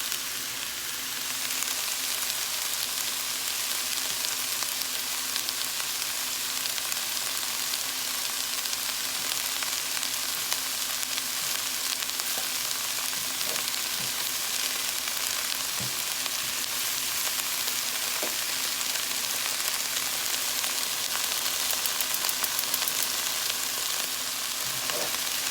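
Steady, loud sizzling and frying of red chili ingredients sweating down in a pan for beef steak chili, a continuous hiss with occasional faint clicks of stirring and no voices.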